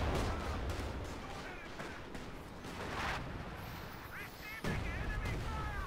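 Priest self-propelled artillery in Company of Heroes 2 booming amid a busy battle soundscape of scattered gunfire and rumble, with distant whistling shells and a voice talking under the din.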